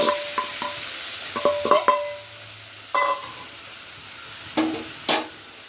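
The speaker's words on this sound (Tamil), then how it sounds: "இது எல்லாத்தையும் நல்லா மிக்ஸ் பண்ணிவிட்டு ஒரு 10 மினிட்ஸ் நல்லா வதக்கணும்." Pirandai with tamarind, two small pieces of ginger and two dried red chillies is stirred in a pan: intermittent scrapes and clicks of a spatula over a soft, close sizzle, with no talking.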